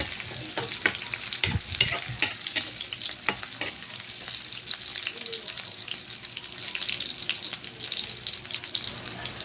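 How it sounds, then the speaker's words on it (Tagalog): Garlic and onion sautéing in a pan for squid adobo, with steady frying sizzle and occasional stirring scrapes and taps running throughout, fairly close. "Tapos halo-halo lang natin para maluto yung bawang at sibuyas."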